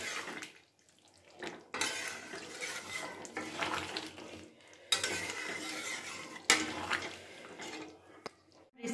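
A jackfruit and prawn curry gets stirred in a pan on a gas stove, a utensil scraping and clattering against the pan in close, busy bursts with brief pauses between strokes.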